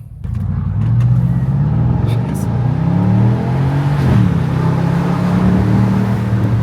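The twin-turbo V8 of a Porsche 955 Cayenne Turbo with muffler delete and X-pipe revs and roars with a deep, continuous rumble, rising and falling in pitch, loud and close, with no clear speech.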